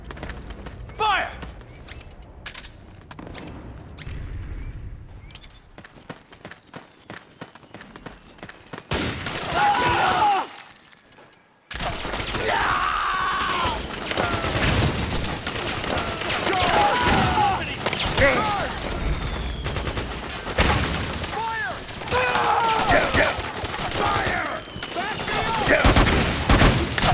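Dense gunfire from a battle in Metal Gear Solid 4 rattles in rapid bursts and fusillades, with explosive booms and a brief silent gap, while voices shout under the constant shooting.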